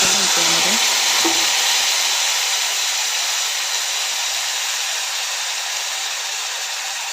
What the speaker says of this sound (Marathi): सर्व चांगले तेल सुटेपर्यंत परतून घेऊया